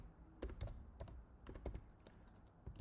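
Someone types on a computer keyboard in a quiet room, a string of soft, irregular key clicks in small bursts, close and fairly faint, with no speech.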